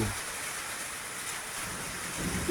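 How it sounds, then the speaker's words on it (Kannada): Steady rain patters down continuously in a dense, even hiss, with no voices, at a Shiva temple near Siddhantapura. "ಮಳೆಗೋಸ್ಕರ ಆ ಭಗವಂತ ಶಿವನ ಶಕ್ತಿ ನೋಡಿ ಮಳೆ ಸ್ಟಾರ್ಟ್ ಆಗಿದೆ"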